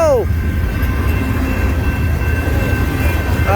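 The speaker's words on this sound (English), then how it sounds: "we just caught two trains" CN freight trains passing through Battle Creek, Michigan, a constant low rumble of rolling cars close by, with brief rising and falling horn-like tones at the start and end.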